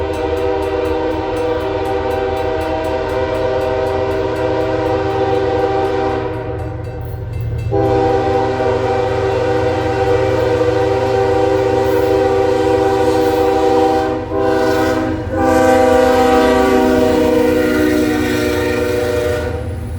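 A BNSF tank train heading south with mixed BNSF, CN, BAYL and AGR locomotives rumbles past loudly, its horn sounding in long sustained blasts over the steady roar of the passing cars, with brief breaks between blasts.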